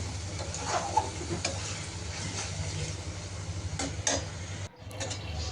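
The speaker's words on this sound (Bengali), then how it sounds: "আর তরকারির মশলাটাও কষানো হচ্ছে।" Spice paste for a curry frying in a pan on a home stove, a steady close sizzle with scraping stirs and clinks throughout, a brief dip near the end.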